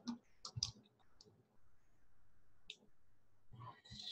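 Quiet, crisp computer mouse clicks, a few single and double clicks spaced irregularly over four seconds against a faint background hum.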